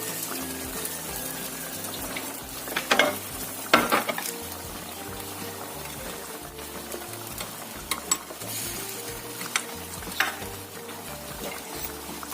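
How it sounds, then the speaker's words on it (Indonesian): Bakwan vegetable fritters fry in hot oil in a wok, a constant close sizzle and crackle with occasional louder pops and utensil scrapes, no voices. "Kita goreng sampai benar-benar kering ya."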